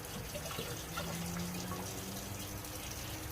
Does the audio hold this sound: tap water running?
yes